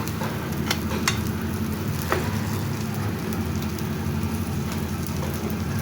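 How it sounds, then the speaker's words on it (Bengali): Pumpkin leaf fritters deep-frying in hot oil, a steady dense crackling sizzle that holds evenly throughout with a few sharper pops, close and fairly loud. "এরকম লাল লাল করে মুচমুচা করে ভেজে নিতে হবে"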